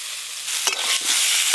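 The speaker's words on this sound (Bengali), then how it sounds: "খিচুড়ির জন্য সবজিগুলো একদম হালকা করে নেড়ে নিয়েছি।" Vegetables for khichuri are stirred in a pan over a loud, steady hiss, with a couple of brief scraping strokes close by.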